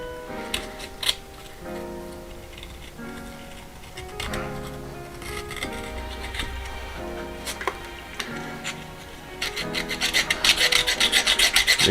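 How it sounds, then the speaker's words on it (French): Close, rhythmic rasping as a metal engine part is scraped before ultrasonic cleaning, with irregular strokes that grow faster and harsher toward the end. "Je vais gratter un peu, puis on verra ce que peut enlever les ultrasons."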